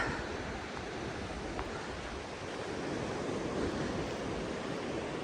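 Ocean waves on the Oregon coast near Rockaway Beach wash in a steady broadband roar, with surf rumbling continuously at moderate level and no voices over it.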